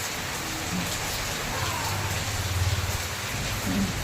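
Steady rain pours down outside, a dense even hiss of drops on surfaces with a faint low rumble underneath, heard alone without talk.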